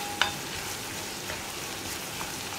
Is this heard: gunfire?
no